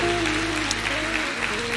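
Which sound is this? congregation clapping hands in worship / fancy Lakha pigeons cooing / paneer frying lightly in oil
congregation clapping hands in worship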